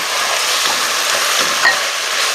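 Lentils stirred into softened onions in a hot pan give a close, continuous sizzle with faint scraping as they are turned.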